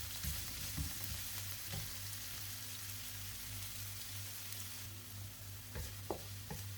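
Onion sautés in a pan for ginisang ampalaya with shrimp, a soft, steady sizzle with occasional light clicks of stirring, faint and close with no voices.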